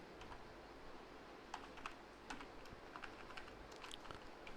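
Paragraphs typed on a computer keyboard: a quiet, continuous patter of soft key clicks in uneven bursts over light background hiss, with no voices.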